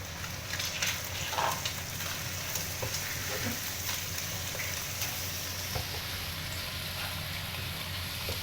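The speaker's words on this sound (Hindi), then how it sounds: "चिकन तो पहले से पक गया था, बस हमने इसको हल्का सा फ्राई किया है।" Chicken and vegetables fry in a pan, giving a constant close sizzle with faint stirring scrapes throughout, no voices.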